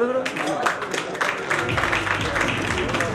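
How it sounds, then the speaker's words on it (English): Applause from an audience at a social foundation awards night breaks out for a memento presentation, a dense patter of clapping filling the hall for a few seconds. "Huge round of applause."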